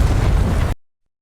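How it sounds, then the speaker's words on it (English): A single loud, close rocket launcher explosion in an action film scene, a dense roaring burst that cuts off abruptly after under a second. "he hits the spot with a rocket launcher"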